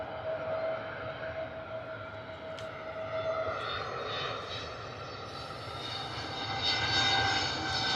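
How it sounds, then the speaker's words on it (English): An Airbus A320neo's jet engines whine at Bristol Airport on a wet, stormy day, a loud sustained roar with high whining tones that swells toward the end. "Listen to those whiny Neo engines"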